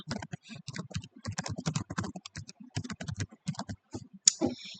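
Code is typed on a computer keyboard in quick, uneven bursts of close clicking keystrokes with short pauses between them, ending on a sharper click.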